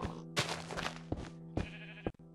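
Sheep bleats from the Minecraft video game, several wavering calls in quick succession, loud and close, with no talk over them.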